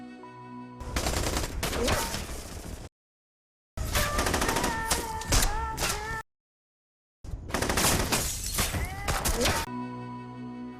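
Bursts of rapid gunfire ring out in a film shootout, three loud stretches of shots separated by abrupt silences, with shouting voices and tonal sounds mixed into the barrage.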